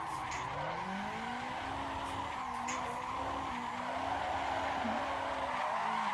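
Car tires squeal and skid continuously while drifting in the Assetto Corsa racing game, with the engine droning underneath, loud and sustained without talking.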